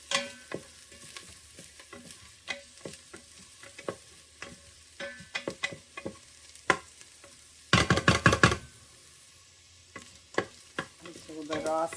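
Garlic sautés in an Instant Pot for a cumin cauliflower and peas dish, with a steady soft sizzle under repeated close clicks and scrapes of a spoon against the pot, including a brief louder burst of rapid stirring.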